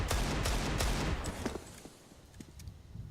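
Shots fired through a wall in CS:GO, a quick burst of sharp rifle shots up front followed by a few scattered, fainter reports as the noise thins out.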